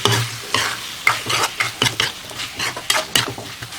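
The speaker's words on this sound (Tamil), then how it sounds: "முருங்கைக்காவை போட்டு நல்லா பச்சை வாசனை போகிற அளவுக்கு வதக்கிக்கலாம்." Drumsticks being sautéed with onion and tomato in a pan, a steady sizzle of frying broken by repeated scraping stirs of a spatula against the pan, close and fairly loud, with no talking.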